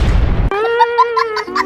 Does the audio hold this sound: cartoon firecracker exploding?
yes